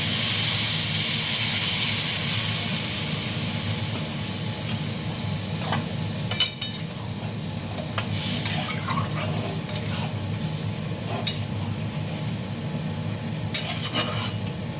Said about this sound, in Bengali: মাছের মাথাটা দিয়ে কিছুটা নাড়াচাড়া করে এর মধ্যে আন্দাজ মতন জল দেবো